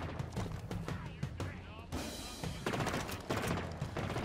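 Gunfire in a first-person shooter game, a rapid volley of sharp shots and impacts with dense bursts, heavier from the two-second mark onward, loud and continuous across the scene.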